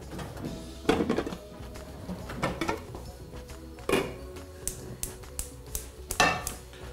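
Frying pan set onto a gas stove: a few metallic clanks and thunks of cookware in a quiet kitchen, spaced irregularly, fairly close.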